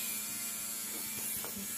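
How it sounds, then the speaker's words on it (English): A Dremel rotary tool grinds nails with a brief, close, buzzing whir that rattles unevenly, with no talk. "I just turn my Dremel on, and yeah, I just Dremel them like that."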